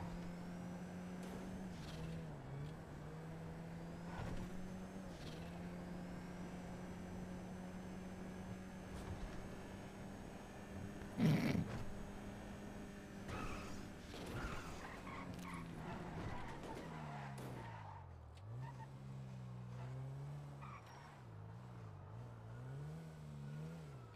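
Video game car engine revving hard under nitrous boost, a loud sustained whine that rises and surges through gear changes, with sharp impacts midway before the revs drop and waver toward the end.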